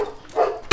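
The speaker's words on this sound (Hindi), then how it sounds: "ये कुत्ता भौंकना बंद ही नहीं कर रहा है" A dog gives a short bark or yip at the very end, close and fairly loud, after a brief stretch of quiet indoor background.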